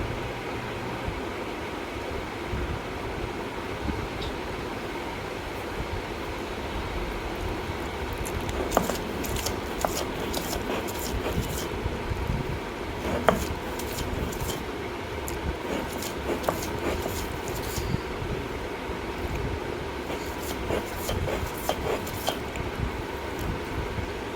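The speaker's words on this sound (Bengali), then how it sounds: "এখন ইলিশ মাছটাকে সুন্দর করে বেটে নিব, কাটা ছাড়িয়ে নিচ্ছি।" Hilsa fish is ground into paste on a grinding stone, a steady, close scraping and rubbing with scattered small clicks that runs unbroken for over twenty seconds with no talk.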